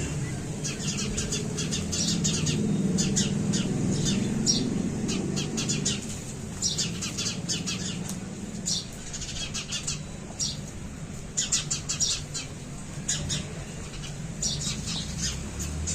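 Sparrows chirp at dusk as darkness falls, a busy flock giving rapid, repeated squawks and tweets from a moderate distance over a low rumbling background hum.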